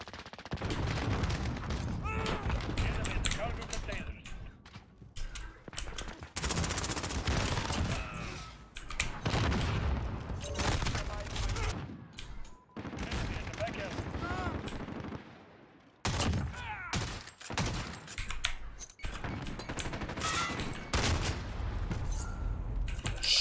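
Call of Duty Modern Warfare gunfire fills the mix: dense, loud automatic bursts and rapid shots repeat almost without pause, with brief gaps between volleys and a player's voice now and then.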